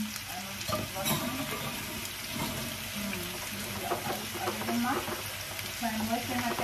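Food frying and sizzling in a pan, a steady crackling hiss with stirring scrapes and clinks, fairly close, with occasional voices in the background.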